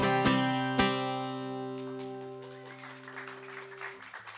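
A final guitar chord rings out at a small Asheville music hall concert, then a modest audience breaks into scattered, steady applause that fills the room.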